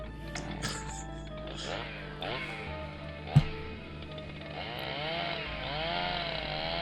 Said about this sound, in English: let's just chainsaw the lock